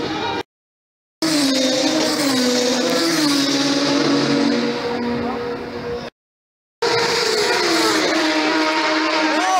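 Loud racing motorcycle engines at the 2014 Isle of Man TT roar and rev as they pass close by, with pitch sweeping up and down, interrupted by two short silent gaps.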